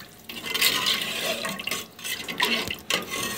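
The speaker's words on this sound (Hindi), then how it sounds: "एक ग्लास इसमें पानी का हम और डालेंगे।" Water pouring from a tap or glass into a pot of chicken soup in a home kitchen, a continuous splashing, gurgling flow with brief dips and surges, close and fairly loud, no talking.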